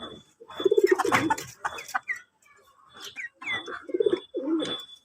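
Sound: chickens in the yard

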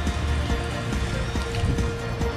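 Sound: heavy rain falling on a baseball field

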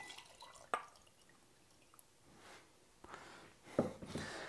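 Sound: liquid dripping through a 20 micron filter

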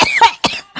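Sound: cough

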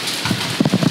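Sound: hail falling

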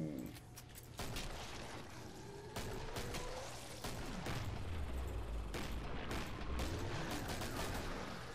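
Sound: hand cannon gunfire in the video game Killing Floor

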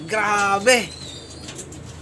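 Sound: racing pigeon cooing

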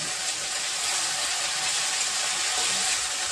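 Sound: spice paste sizzling as it is fried in a pan

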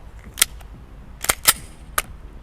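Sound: gunshots from a CZ P-10C pistol at target practice

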